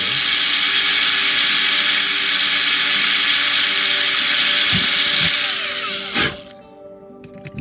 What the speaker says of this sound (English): we'll drill out the windows on the side